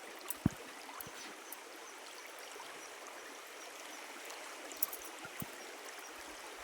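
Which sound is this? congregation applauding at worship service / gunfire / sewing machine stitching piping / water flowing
water flowing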